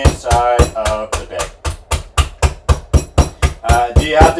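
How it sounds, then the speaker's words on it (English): A hammer repeatedly pounds cashews inside a bag in a kitchen, about a dozen sharp, loud, evenly spaced thuds in a steady rhythm, with someone talking between and over the blows. "I am busting up the cashews inside of the"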